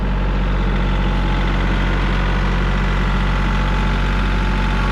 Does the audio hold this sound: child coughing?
no